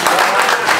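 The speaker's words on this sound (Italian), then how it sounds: "Un applauso." Dense, loud applause from a festival audience at an evening screening, a brief continuous burst of many hands clapping together.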